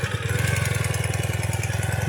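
A Ural motorcycle engine fitted with a new Keihin EFI system runs steadily at a fast, even idle, its pulsing exhaust beat close and loud with no voices over it.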